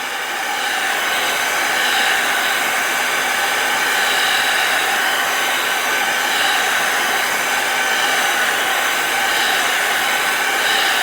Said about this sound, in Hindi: नोवा ड्रायर से ही बना रहे हैं हम